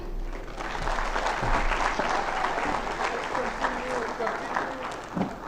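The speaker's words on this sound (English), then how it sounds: "Let's continue to give Fauziya a round of applause." An audience at a national exhibition award ceremony applauds steadily and loudly, with sustained clapping filling the whole stretch and crowd noise mixed in.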